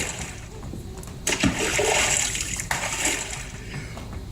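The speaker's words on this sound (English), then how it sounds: "What terrible splashing, the elephant frowned." Water splashes loudly as kangaroos plunge into a cool pool, a dense, continuous wash of sloshing and spattering with a sharper surge midway through, alone without voices.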